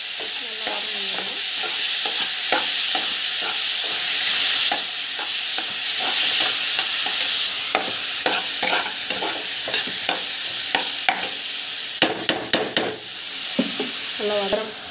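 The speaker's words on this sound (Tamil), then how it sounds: "நல்லா வதங்குது. ஸோ டமாட்டோ வந்து ஆட் பண்ணிக்கலாம்." Tomatoes and spices sauté in a pan with a constant close sizzle, broken by frequent scraping, clattering stirs of a spoon, and no talking.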